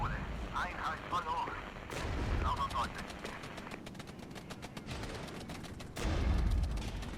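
Artillery fire in the war game Regiments: a rapid stream of distant cracks and thuds, capped by a heavier close blast, with a voice talking during the first few seconds.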